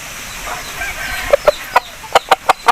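An Aseel rooster, a four-time fighting winner, gives a series of about seven sharp, loud clucks in quickening succession close by, after a stretch of low background noise.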